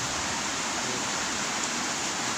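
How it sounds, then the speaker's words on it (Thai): Heavy rain pours down in a dense, unbroken roar that stays level throughout, with no talking and no other sounds rising above the wash. "ฝนตกหนักค่ะ"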